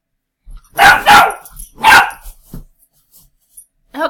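A puppy barks in a few sharp, close yips: two quick barks, a third soon after, then a brief whimpering yelp at the end, with quiet gaps between.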